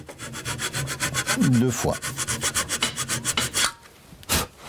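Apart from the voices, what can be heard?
hand saw sawing wood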